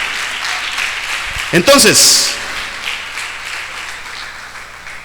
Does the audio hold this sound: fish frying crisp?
no